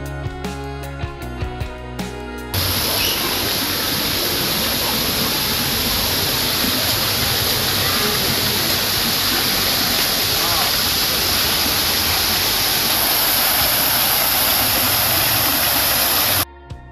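Park water fountain splashing steadily, a loud continuous rush of falling water that cuts in after a couple of seconds of quieter sound and holds until near the end.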